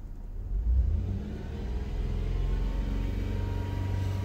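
A Toyota 4Runner engine revs as the throttle is pressed, its steady mid-pitched rumble rising and holding near and loud with no talking.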